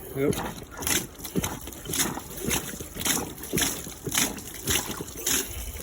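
A manual bilge pump works in a steady rhythm, each stroke giving a wet sloshing, squelching gulp of water, repeating about every half second up close.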